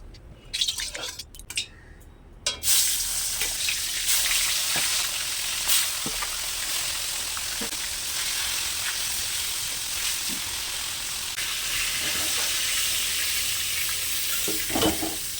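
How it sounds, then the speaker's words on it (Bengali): Whole cumin, dried red chillies and bay leaf hit oil left from frying a hilsa fish head, bursting into a loud, steady close sizzle that carries on without letup after a brief quieter start. "মাছ ভাজার ওই তেলের মধ্যে গোটা জিরে, শুকনো লঙ্কা, তেজপাতা দিয়ে দিলাম।"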